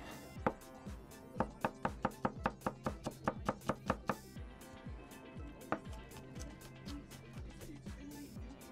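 A knife chops shallots on a cutting board in an RV kitchen, a quick run of about a dozen crisp, evenly spaced taps, then a few scattered cuts, close and fairly quiet.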